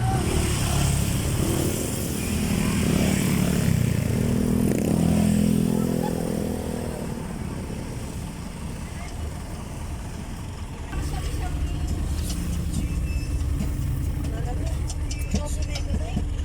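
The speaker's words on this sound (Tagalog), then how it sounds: "Ayan, sobrang traffic po ngayon pag ganong oras." Dense road traffic at Arenas, Arayat, with many motorcycles and cars idling and creeping past, a steady close rumble of engines that thins slightly partway through; a person speaks over the noise.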